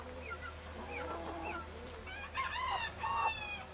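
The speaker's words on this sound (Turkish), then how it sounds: "Horozumuz bakın." A large rooster crows nearby among mixed backyard poultry, its call rising over softer clucks and chirps from other birds, with a low steady hum underneath.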